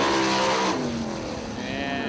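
A 410 sprint car racing around the 34 Raceway dirt track, a loud high-revving engine whose pitch drops as it passes, followed by a steady roar of cars further around the circuit.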